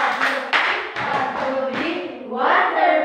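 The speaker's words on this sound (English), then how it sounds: "Please stand up, everybody, and let's do wonderful clap." A class of elementary students claps hands together in a rhythmic group clap, loud and close, with a few distinct bursts and a rising final flourish of voices and claps.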